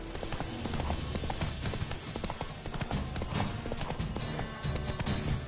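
Roach the horse trotting in The Witcher video game, a steady run of hoof clip-clops over a dense, busy background of game sound and music with an occasional faint snort, continuous and fairly loud throughout.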